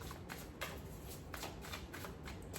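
Tarot cards are shuffled by hand in a quiet room, a soft, steady riffling and sliding with faint rhythmic flutters and no talking.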